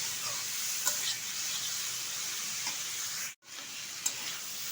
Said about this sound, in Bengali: বেশ কিছুক্ষণ নেড়ে চেড়ে নিয়েছি মশলাটা দেওয়ার পর